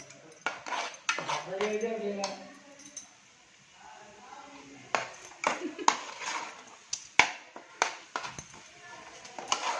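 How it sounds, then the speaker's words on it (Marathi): Chicken masala paste being stirred and sautéed in a pan for a chicken gravy, with irregular metallic clinks and scrapes of a spoon against the pan, a quieter stretch between, and a voice talking in places. "व्यवस्थित परतून घ्यायचं असतं मसाला पण आपल्याला सर्व वाटणामध्ये"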